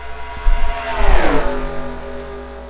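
Race cars on the last lap at a Utica home track, engines roaring loudly as a car sweeps past close by with a falling pitch, followed by a sustained revving drone.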